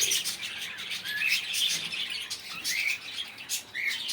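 Caged blue mask lovebird pairs give repeated high chirps and squawks. The calls overlap in a steady chatter that is fairly close and runs with no voices.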